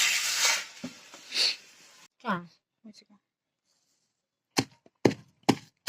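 Green chilies pounded in a stone mortar for pickle, first under a speaking voice and then as a few sharp separate thuds spaced apart near the end.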